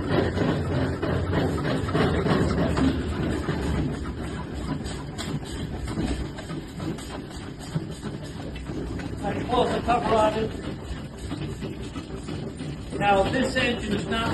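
A flywheel engine, unmounted, is turned over by hand at the flywheels and starts, then runs with a steady rapid mechanical chugging that is quick at first, close and continuous, with a person talking over it.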